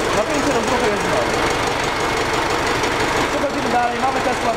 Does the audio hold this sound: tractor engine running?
yes